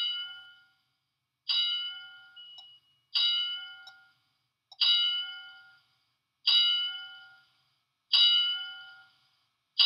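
A CRRT dialysis machine alarm sounds as a bright electronic chime repeating about every one and a half to two seconds, six clear tones each fading out, alone with no talk.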